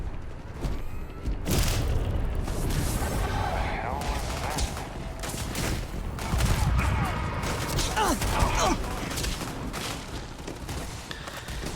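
Sustained firefight in the space RPG Starfield: dense overlapping gunshots, booming impacts and mechanical clatter keep up loudly for the whole stretch, with a voice talking intermittently underneath.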